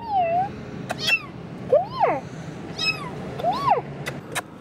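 A cat meows repeatedly from inside a hiding place, several rising and falling calls spaced a second or so apart, moderately near, with faint background noise between them.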